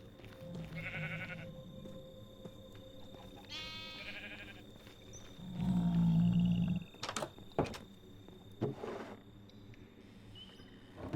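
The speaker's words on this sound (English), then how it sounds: "Let's breed more lamb." Sheep bleat repeatedly in a Minecraft farm while lambs are being bred, the calls close and clear among scattered game sounds and clicks.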